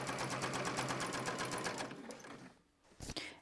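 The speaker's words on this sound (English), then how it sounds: "I'm going to do my best to sew nice and straight just through both layers" A sewing machine stitching straight lines through two layers of fat-quarter fabric for a zipper bag, with a steady rapid needle chatter up close that stops after two seconds, followed by a couple of brief clunks.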